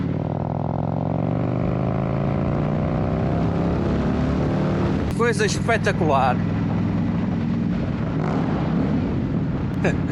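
An Indian motorcycle fitted with an aftermarket SNS exhaust accelerates hard, its engine note rising steadily through the gears, loud and close. A brief burst of sharper exhaust crackle follows, and someone speaks over it.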